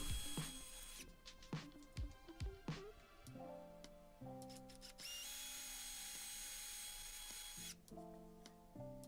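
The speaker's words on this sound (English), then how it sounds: "it has no problem drilling materials such as plywood, pine, chipboard" A Bosch AdvancedImpact 18 cordless combi drill whirs in short bursts, then runs steadily for several seconds with a high whine, before a few more brief pulses.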